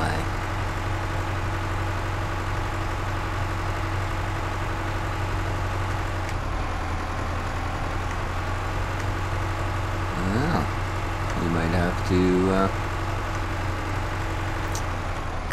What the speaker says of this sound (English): Come up with another tractor.